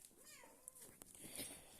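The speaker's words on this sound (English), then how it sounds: "Just let Kitten say hello." A faint, soft meow from a cat rises and falls once, with quiet background hiss and a couple of small clicks.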